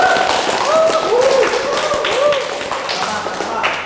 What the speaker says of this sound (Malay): tepuk tangan untuk sini